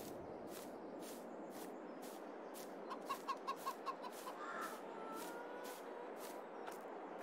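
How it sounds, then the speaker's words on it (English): Chickens in the Farming Simulator 22 video game cluck in a short run of rhythmic, moderately loud calls over steady ambient game noise, with a brief higher call after. "still there's the two chickens"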